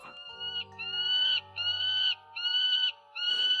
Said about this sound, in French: Un cri d'oiseau tire le maître de sa sieste.